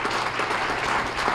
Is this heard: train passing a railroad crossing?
no